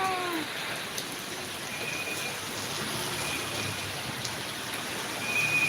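Heavy rain falls steadily during a morning walk, a dense even hiss of drops on surfaces that continues unbroken throughout, with no voices.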